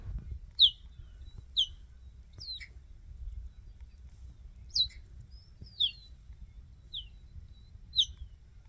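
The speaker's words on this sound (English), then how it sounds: "Here's Kimi and Kayzer calling for their missing mom without the overlaying narration." Cheetah cubs calling for their mother with high, bird-like chirps, a series of short, sharp calls spaced a second or so apart over a quiet, low rumbling background.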